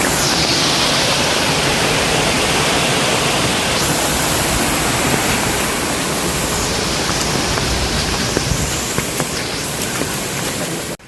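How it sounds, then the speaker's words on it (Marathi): Water rushes down a stream near a hillside temple on the outskirts of Mulund and Thane, a steady, loud broadband roar that fills the whole span without pause. "पाणी बघा कसं चाललं खाली."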